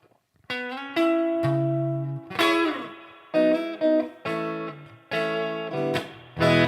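Clean electric guitar chords through a Boss Katana amplifier strummed one after another, each ringing out with a spacious, lingering reverb tail, loud and close with no voices.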